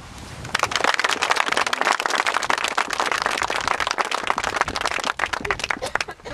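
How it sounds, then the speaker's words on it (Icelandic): Sustained applause from an audience gathered for a civic memorial event, dense steady clapping that swells in quickly and holds loud for several seconds before thinning slightly at the end. "Og ég held að við bara bíðum að gefa henni gott klapp."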